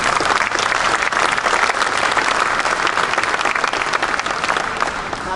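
Loud, dense applause from an audience honoring a rocket team at a NASA event, sustained and even throughout with a large crowd clapping close by.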